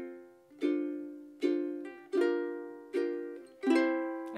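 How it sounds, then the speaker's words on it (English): Thumb strumming chords on a stringed instrument: five soft, evenly spaced strums ring out and decay, each chord sustaining until the next in a slow, steady rhythm. "And that's just the basic thumb strum."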